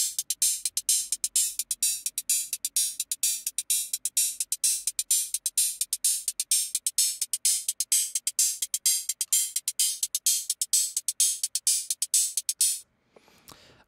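A synthesized TR-808 hi-hat patch built in Phase Plant from a custom wavetable sweeping from a square-like wave toward an added pulse wave; crisp, bright ticks repeat in a steady rapid rhythm for about thirteen seconds, then stop abruptly.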